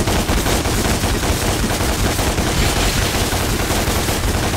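Ebony and Ivory, Dante's twin high-caliber handguns in Devil May Cry, fire in a loud, dense rapid burst, shots blurring into continuous gunfire throughout.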